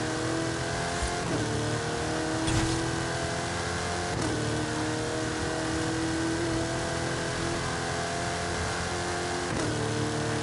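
A muscle car engine in Forza Horizon 5 roars continuously at high revs, loud and steady, with brief dips as gears shift and no talk.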